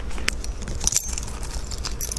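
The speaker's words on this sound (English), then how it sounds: "As soon as I figure out which one of these keys locks this door." A bunch of keys jangles while someone searches for the one that locks a door, producing a bright metallic clinking close by over faint road and car noise in the background, with no talking.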